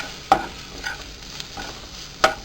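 Potato with cumin and turmeric powder is stirred in a pan while it sizzles softly, with a few distinct spatula clacks at close range.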